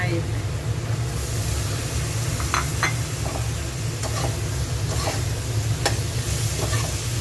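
Long beans stir-frying in a pan with minced pork, a steady close sizzle and hiss running throughout, with brief clinks of a spatula against the pan.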